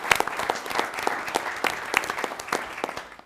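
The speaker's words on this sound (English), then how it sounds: "let's go ahead and clap for Joy Hicks" A board of education meeting audience claps, a sparse, uneven scatter of individual hand claps at fairly close range that thins out toward the end, with no speech over it.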